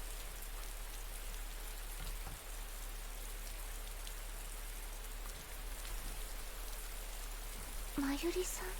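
Steady rain falls through a forest, with dense, even patter over the whole stretch and a brief voice near the end.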